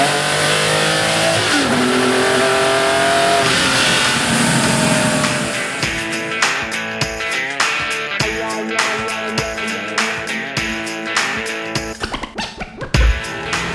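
An Italian sports car engine revs hard, its pitch sweeping upward before breaking into choppy, rapid throttle blips and bursts, loud and close with no voices.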